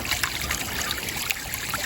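Water from a hose drains steadily into a hole by a vegetable garden, a soft continuous trickle and gurgle up close with small splashy bursts, no voices.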